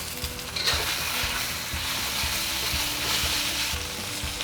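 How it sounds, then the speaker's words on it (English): Pork sizzles and crackles steadily in a hot pan for Taiwanese fried rice noodles, a close, even frying hiss with small spatters and no talking. "Once you put the pork in, resist the urge to stir fry just until the crust develops, and that way it won't stick to the pan."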